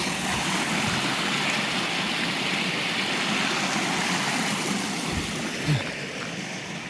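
Steady broadband rush of water at the top of Johnny Falls, a creek waterfall near Lander, Wyoming, heard close and continuous with no voices.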